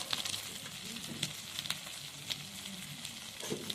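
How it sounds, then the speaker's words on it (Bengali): Ground spices such as chilli powder and salt sizzling steadily in a hot pan of oil, a soft continuous crackle with small pops and occasional stirring scrapes, with no talking. "আর একটু জিরে গুঁড়ো দিয়ে আমি মশলাটা ভালোভাবে কষিয়ে নেবো।"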